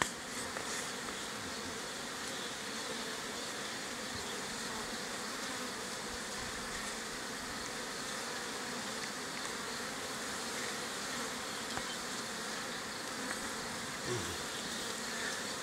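Honey bees swarm around a beehive, their dense, steady buzzing continuous and close for the whole stretch with no voices.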